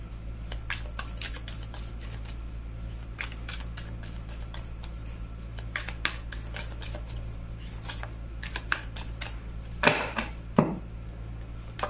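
Tarot cards being shuffled and laid out on a table, a string of soft crisp flicks and taps at close range, growing busier near the end with a couple of louder slaps.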